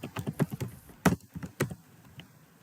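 Typing on a computer keyboard: a run of quick, close key taps with irregular rhythm and a few louder strikes, heard clearly with no talking.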